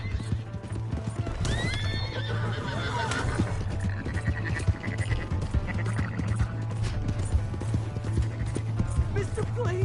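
Horse hooves clip-clop steadily in Red Dead Redemption II, mixed with whinnies, game music and busy ambience while voices shout and talk over it.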